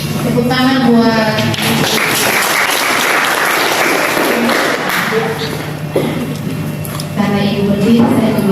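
A group claps in a school setting, the applause rising between stretches of spoken voices and a droning tone, fairly loud and close, lasting several seconds before talk resumes.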